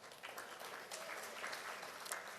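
An audience applauds at the official 2019 CXC results release ceremony, a steady, dense wash of many hands clapping throughout, moderately loud and with no speech over it.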